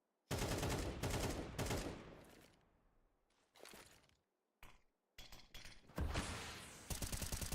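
Sniper rifle and other gunfire in an esports shooter match, sharp loud bursts and rattling volleys separated by brief gaps of quiet, with no voices.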